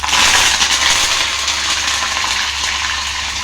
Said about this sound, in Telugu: ఈ విధంగా ఆయిల్ మగ్గాక, ఆయిల్ వేడయ్యాక కరివేపాకు వేసుకుందామండి.